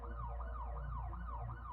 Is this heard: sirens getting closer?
yes